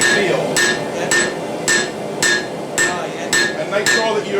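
Hammer blows on a knife blade being forged, struck in a steady rhythm of about eight ringing metallic hits, each with a bright clink, close and loud over a noisy workshop background.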